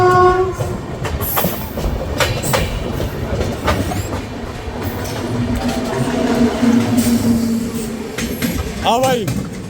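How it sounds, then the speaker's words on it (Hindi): A train on a bypass line rolls past on a long Indian rail route. Its steady rumble and clatter build, people talk over it, and a horn sounds near the end. "यार शायद वो बाईपास लाइन से कोई ट्रेन आ रही है आई थिंक।"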